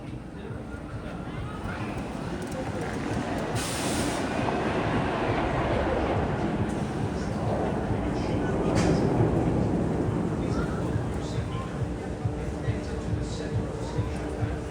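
The Kingda Ka roller coaster train at Six Flags Great Adventure runs on a snowy day, giving a steady, broad rumbling roar that swells and fades over about fifteen seconds.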